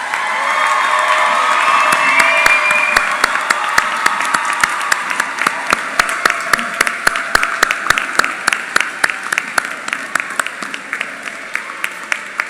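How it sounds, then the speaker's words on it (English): Graduation ceremony crowd applauding graduates: dense, loud clapping that gradually thins into scattered individual claps over about twelve seconds. "parents, guests, please stand and give the graduates a round of applause"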